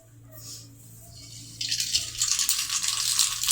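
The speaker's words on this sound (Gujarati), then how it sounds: "આપણે તેમાં રાઈ નાખીશું." Mustard seeds dropped into hot oil for a tempering while making Manchurian: quiet at first, then a sudden bright hiss and crackle that keeps going, close and fairly loud.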